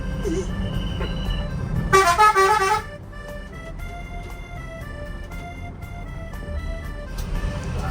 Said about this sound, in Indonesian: Ini klakson aja nggak minggir.